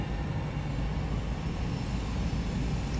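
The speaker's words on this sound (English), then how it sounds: "I hear an airplane" Steady broadband roar of an airplane overhead at night in Wilmington, North Carolina, constant and moderately loud for a few seconds.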